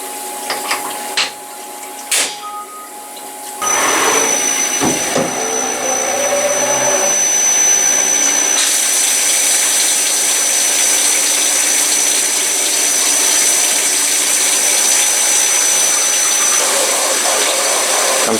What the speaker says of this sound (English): we're going to just use a boring bar, and we're going to ream out the bearing pocket here